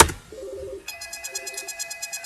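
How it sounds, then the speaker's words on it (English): A desk office phone set rings close by: after a brief tone, a bright electronic warble starts and pulses in rapid, even beats, loud and alone. "That now has made my phone ring."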